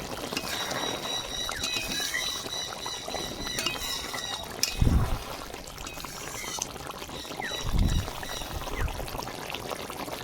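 Thick mustard-paste dish with parshe fish, a rural Bengali recipe, poured out of a cooking pan: two soft, low, wet plops come midway and near the end over a steady, noisy kitchen background.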